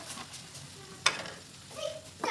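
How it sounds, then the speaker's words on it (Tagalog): Chicken curry stirred in a pan, soft scraping and faint sizzle at close range, with one sharp utensil clink partway through and gentle bubbling toward the end. "Mix muna natin."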